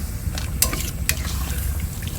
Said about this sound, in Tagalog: So haluin lang po natin ulit.